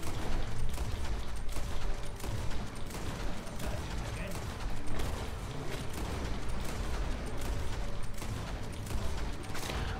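Gunfire in the online western shooter Red Dead Online survival mode: dense, continuous rapid shots and clattering weapon mechanisms, loud and unrelenting throughout, with game noise layered underneath.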